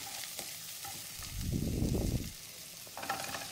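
Garlic and aromatics frying in oil in a pan while cooking a Tamil coconut-milk drumstick curry, a steady soft sizzle that swells louder for about a second as the pan is stirred, then settles back.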